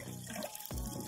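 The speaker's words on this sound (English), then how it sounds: "air can get into the tank and then the water from the tank can flow out" Water gurgles and flows steadily out of a pump's tank into a bucket, a continuous close bubbling with a brief surge partway through.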